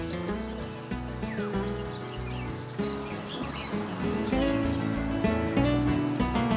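Songbird calls rise as quick high chirps and whistled phrases over a continuous bed of soft instrumental music, moderately loud and without any speech.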